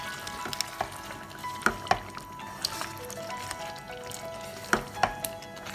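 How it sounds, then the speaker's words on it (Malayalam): Creamy mustard chicken with coriander leaves being stirred in a pan, a soft continuous sizzle broken by a few sharp clicks of a spoon against the pan, moderately quiet with no talking. "മല്ലിയിലയും കൂടി ഇട്ട് ഇളക്കിയിട്ട് എടുക്കാം ലാസ്റ്റ്"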